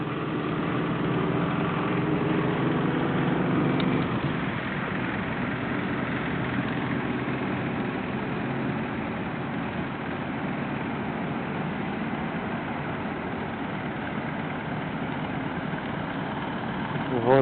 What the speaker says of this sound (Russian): Ну, конечно, это просто ночная уборка.